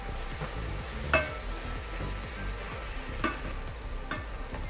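Mixed vegetables with chili flakes and cut green chilies are stirred in a hot pan for Indonesian-style fried rice, with a steady sizzle under repeated scraping strokes and a few sharp clinks of the utensil against the metal, close and without speech.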